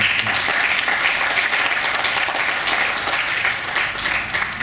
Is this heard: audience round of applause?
yes